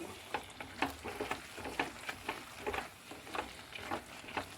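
A spoon stirs chili powder into sardine masala in a frying pan, giving a steady sizzle with repeated scraping strokes roughly every half second, close and moderately loud with no talk.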